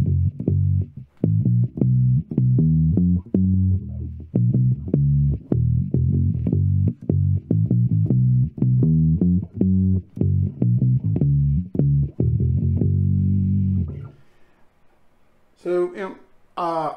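Epiphone EB-0 short-scale four-string bass played muted, giving a steady run of short, thumpy plucked notes in an even rhythm, followed by a brief voice near the end.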